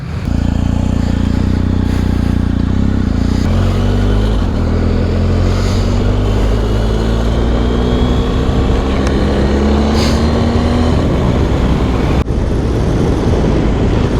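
Several BMW GS motorcycles pull away together, engines revving up through the gears in rising, overlapping drones that stay loud and close, with a brief gear change near the end and no talking.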